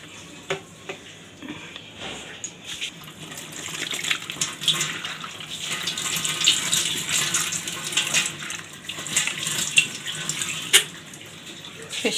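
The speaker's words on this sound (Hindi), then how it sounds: "खुशकाश धोना बहुत मुश्किल काम है। इसको बड़े तरीके और एहतियात से धोया जाता है।" Soaked poppy seeds being washed under a running kitchen tap: a steady rush of water with small clinks and splashes from handling the seeds, close and alone without talk.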